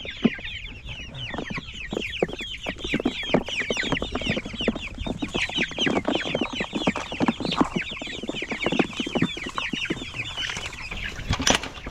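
Chickens and small chicks crowded in a farm coop cluck and peep continuously, a dense close chorus of overlapping calls with a sharper squawk near the end.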